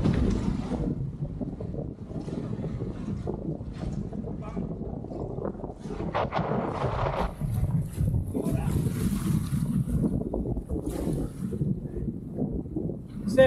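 Strong wind blowing over a packraft on a river in Patagonia, a steady buffeting roar with rushing gusts and water noise and no clear break.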